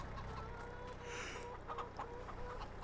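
Chickens in the Farming Simulator 22 video game cluck softly and repeatedly in short bursts over a low, steady ambient hum, faint and without talking.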